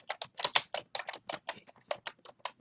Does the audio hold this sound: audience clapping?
no